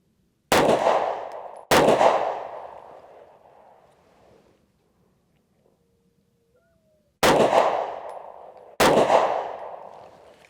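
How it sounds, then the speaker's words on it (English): Four sharp, loud pistol shots from a Sig Sauer P365 fired at 10 yards on a range, two close together, a pause of several seconds, then two more, each with a ringing echo tail that dies away. "Shot a few more rounds at 10 yards just to see how it is, just normal shooting"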